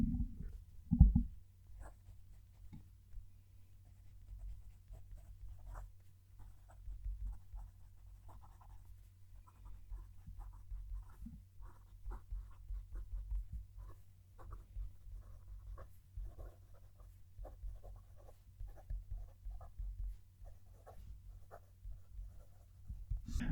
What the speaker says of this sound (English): I'm going to move the mic so we can write the sentence.